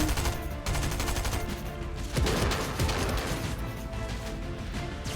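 Quiet, busy gunfire from a Fortnite match, a jumble of shots and rapid bursts mixed with game effects at a moderate distance and running continuously throughout.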